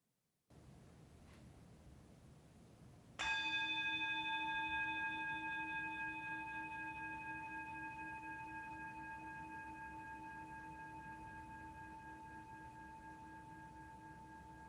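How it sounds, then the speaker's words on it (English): A single bell is struck at a Sunday worship service and rings out with a clear, bright tone, its overtones lingering and slowly fading into near silence over many seconds. "As we follow the sound of the bell into silence"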